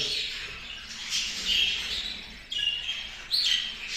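Pet birds in an aviary cage squawk and chirp in short, sharp calls while feeding on soft food like boiled egg and carrot, close by with a light background hiss.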